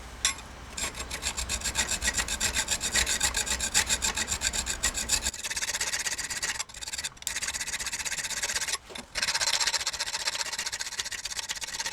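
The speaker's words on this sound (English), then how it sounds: "start filing off material, hogging it off" Hand file rasping material off a steel knife spine, carving dragon scales in a workshop: continuous rapid back-and-forth strokes, loud and close, broken by a few brief pauses.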